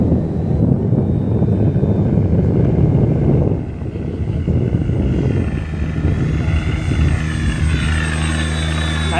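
An RC F8F Bearcat model airplane with a 1100 mm wingspan flies slowly overhead, its electric motor and propeller giving a steady droning buzz that shifts in pitch as it passes.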